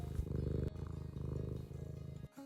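A cat purrs steadily on a lap, a soft, close, rhythmic rumbling motor that pulses evenly in and out for a couple of seconds, quiet and alone.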